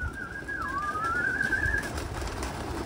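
A single pigeon call rises and wavers for about a second over steady outdoor background noise.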